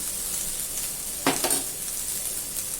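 Mixed vegetables for a restaurant-style sabzi sautéing lightly in a pan, a faint, even sizzle with one brief burst of stirring and clatter near the middle, no talk.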